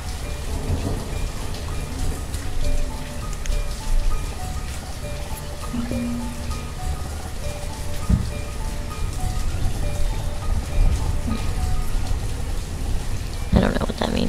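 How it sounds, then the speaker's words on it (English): Heavy rain in the city-building video game Banished, a dense continuous downpour with a low rumble like thunder, steady and fairly loud, with a voice speaking over it at moments. "Oh goodness, it's raining really hard."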